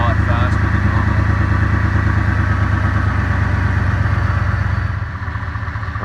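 A 2019 Ford F-150 engine idling steadily up close after an AMSOIL oil change, a constant low rumble that drops slightly in level near the end, with no talking.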